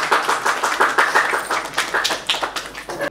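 An audience breaks into applause at a Nepali public event where donations are announced, with brisk, dense clapping held at a steady level for about three seconds before it cuts off abruptly.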